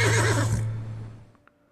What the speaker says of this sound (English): Ese relinchín hardcore.